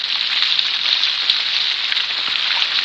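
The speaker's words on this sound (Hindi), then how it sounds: "अरे भाई क्यों बारिश में भीग रही हो?" Steady rain falls in a dense, continuous hiss, loud and close, with no breaks or talk over it.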